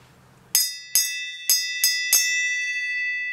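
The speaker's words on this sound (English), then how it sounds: "I'm going to ring the bell, go in the house," A metal bell is struck five times in quick succession, each clear, bright ring piling onto the last and fading into a long, sustained shimmer, with no talking.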